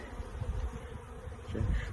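Honey bees from a package buzz near the caged queen, a soft low droning hum that rises and falls quietly, close by and without talk.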